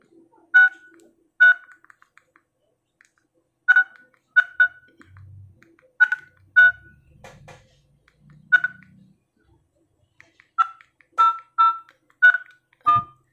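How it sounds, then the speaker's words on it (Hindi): Keypad tones sound on a JioPhone as a number is dialed: a run of short, sharp beeps in irregular bursts, close and clear, with faint low background noise between presses and no talk. "हमने इसमें नंबर डायल कर दिया।"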